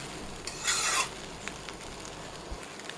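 Rice being stir-fried over low heat in a pan for fried rice, with a brief loud scraping rasp of the spatula followed by fainter scattered clicks and scrapes against a quiet background.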